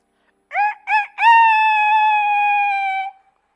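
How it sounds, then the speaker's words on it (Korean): A rooster crows once, close and clear: two short clipped notes followed by a long sustained cock-a-doodle-doo that fades out, with silence around it. "닭이 울더군요."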